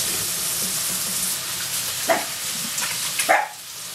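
Onions browning in an All-Clad Emerald pan give a steady, fairly loud sizzle, with a few brief clinks and scrapes near the end.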